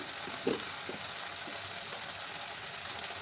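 Masala of tomato, cumin and other ground spices frying in a pan, a faint steady sizzle with a soft clink of a spoon near the start.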